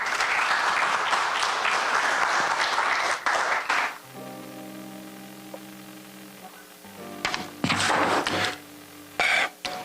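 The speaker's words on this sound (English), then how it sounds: "Please join me in giving a heartfelt round of applause as we welcome Mr. Harun Khan to the stage." Heartfelt audience applause welcoming a speaker to the stage at a school alumni reunion, loud dense clapping that stops suddenly, leaving a sustained hum, then returns in short bursts.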